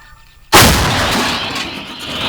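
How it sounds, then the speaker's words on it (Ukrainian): After a short quiet moment, a single loud artillery cannon firing a fragmentation round at a target about 12 kilometres away booms close by, then its roar rolls and fades slowly through the rest. "Гармата! Постріл!"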